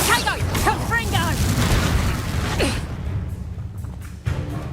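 Confringo blasting spell cast in combat in Hogwarts Legacy: loud, booming bursts and whooshes come in quick succession, mixed with voices shouting and grunting through the fight.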